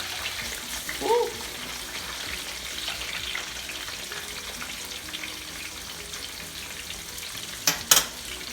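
Jamaican banana fritters frying in a pan, a steady soft sizzle throughout, with a brief clink near the start and a couple of sharper scraping knocks near the end.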